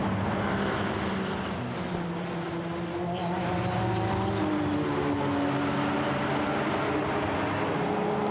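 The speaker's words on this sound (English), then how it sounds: "Does sound good, that Aston Martin, going through Sheen Curve" An Aston Martin GT4 race car drives the Brands Hatch circuit, its loud engine note holding steady and rising in pitch as it runs through a curve, with no other voices heard.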